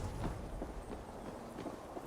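Horse hooves clip-clopping at a steady walking rhythm in Assassin's Creed Valhalla, quiet and slightly distant, with no talk over the hoofbeats.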